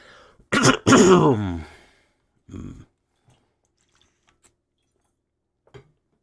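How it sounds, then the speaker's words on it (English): A single close, loud throat clearing, followed by a softer short rasp and a few faint clicks in near silence. "Clearing my throat."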